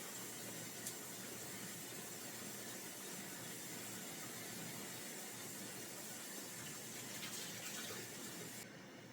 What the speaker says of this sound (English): I'm going to get all these herbs rinsed off so they are ready to rock and roll when I'm ready for them.